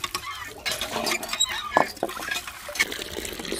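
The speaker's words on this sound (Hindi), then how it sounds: "अभी दोस्तों वाश कर लेंगे पानी से।" Metal utensils being rinsed with water from a bucket after scrubbing with ash, with splashing and clinking of dishes, and some talk nearby.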